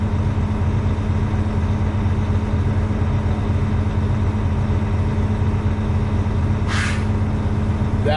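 A truck's air brake compressor builds pressure under a steady idling engine drone, then the governor hits cutout with a short, sharp hiss of air purging near the end.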